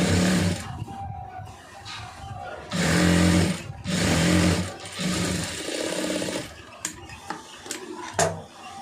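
An electric sewing machine runs in several bursts while a star-shaped neck design is stitched, a loud whirring drone that starts and stops with short pauses, and a voice speaks between the runs.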